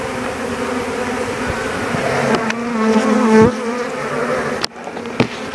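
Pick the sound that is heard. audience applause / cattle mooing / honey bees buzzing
honey bees buzzing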